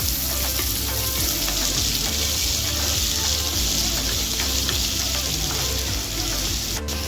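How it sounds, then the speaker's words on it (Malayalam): Onion, green chilli and curry leaves sauté in a hot pan, a steady, loud sizzling hiss that runs without a break, with soft scraping stir noises underneath. "കറിവേപ്പില, സവോള എല്ലാം കൂടി നന്നായിട്ട് വഴറ്റി കൊടുക്കുക."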